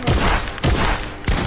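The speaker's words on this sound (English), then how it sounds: "I show you the fire rate of this shotgun." Three loud, evenly spaced shotgun blasts in a video game, each a sharp close boom with a short decaying tail, about half a second apart, with no talking over them.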